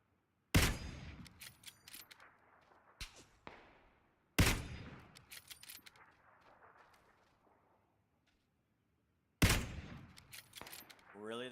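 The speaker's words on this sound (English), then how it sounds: "I'm just over here firing away" Video game shooter gunfire: three sharp, loud shot bursts spaced several seconds apart, each followed by clattering echoes and debris that fade out, with no talking.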